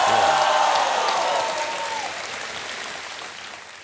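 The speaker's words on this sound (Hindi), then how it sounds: "जरा जोरदार ताली बजा।" A studio audience at a television quiz show breaks into loud applause that starts full and dense, then gradually thins and fades over a few seconds.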